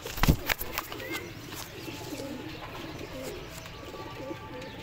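A pigeon cooing softly at moderate distance, a few low rolling coos after some sharp clicks and knocks at the start, fairly quiet overall.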